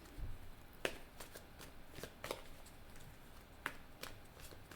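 Tarot cards are shuffled and drawn in a quiet room, a few sparse snaps and soft slides spaced apart over a faint background hiss, close but low in level.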